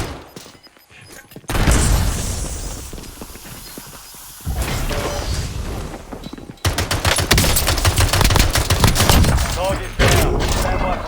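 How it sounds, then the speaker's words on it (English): Warzone combat with rapid machine-gun fire and gunshot bursts, plus a frag grenade blast, loud and dense across most of the stretch, with in-game voices calling out over the action. "Throwing frag."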